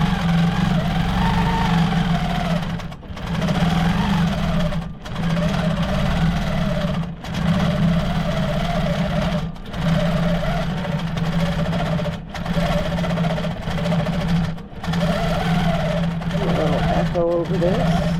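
A sewing machine quilting a fabric shopping tote runs in loud, steady bursts, stopping briefly every couple of seconds and then starting again, with a constant motor drone close by.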